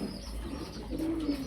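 A fancy pigeon coos softly, a short low murmur rising near the end of the moment, heard close amid faint room noise.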